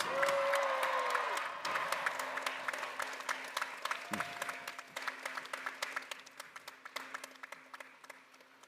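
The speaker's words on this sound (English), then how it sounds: "And I think that deserves another round of applause." Graduates at a commencement ceremony get a round of applause from a large crowd, with dense clapping swelling at first and then slowly thinning to scattered claps over several seconds.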